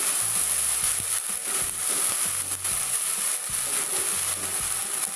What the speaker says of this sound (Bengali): এবার এর মধ্যে আমি দিয়ে দেব পেঁয়াজের পেস্টটা। ভালো করে একটু নেড়ে দেব।